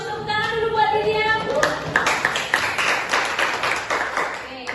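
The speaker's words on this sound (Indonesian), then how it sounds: "tepuk tangan dulu buat Lydia" A classroom group claps for a student after her question, a short burst of scattered hand claps that follows a brief stretch of voices and fades out over a few seconds.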